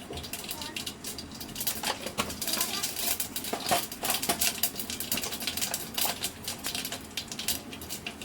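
Mustard seeds crackle and pop in hot oil in a pan for egg 65, a dense patter of small sharp bursts throughout with a voice speaking over it.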